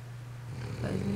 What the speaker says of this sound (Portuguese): Olha o ronco do bicho.